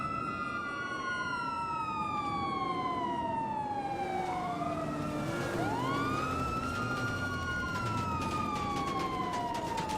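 Police car sirens wail and sweep across a busy street, with several overlapping rising and falling tones that are loud and continuous amid traffic.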